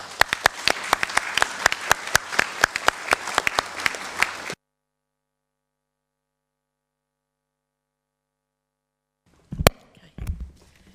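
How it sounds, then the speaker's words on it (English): Applause from a council meeting audience after a motion is carried unanimously, a dense burst of clapping lasting several seconds that stops abruptly, followed by silence and then a couple of faint knocks and rustles. "Big round of applause."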